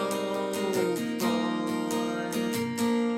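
An acoustic guitar strums chords from a song's outro in a steady rhythmic pattern, bright and close, with no voice.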